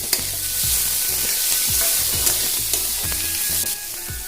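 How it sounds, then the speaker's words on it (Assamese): Masala and onions fry in a hot pan with loud, steady sizzling, broken by rhythmic scraping strokes of a stirring spoon about twice a second. Prepared for an Assamese potato and pointed gourd dish, with no voices. "মছলাখিনি দি দিলোঁ। তাৰপিছত অলপ সময় ৰঙচুৱা হোৱালৈকে লৰাই থাকিম।"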